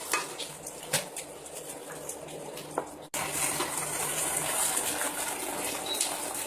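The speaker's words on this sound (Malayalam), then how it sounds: "ഇനി നമുക്ക് ഇളക്കി കൊടുക്കാം." Cauliflower gobi manchurian is stirred in a pan with a spoon, giving a few metallic clinks and scrapes, then a steady close sizzle of frying with no talking.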